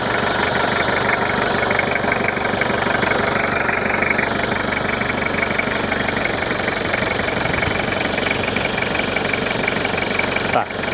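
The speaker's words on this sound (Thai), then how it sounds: "เสียงเครื่องเงียบนะครับนะเสียงเครื่องดีมาก" A 1997 Toyota Mighty X pickup's 2L diesel engine idling, a steady close rhythmic diesel clatter with a low hum, running evenly without change throughout.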